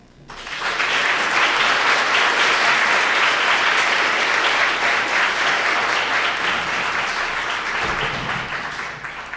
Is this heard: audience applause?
yes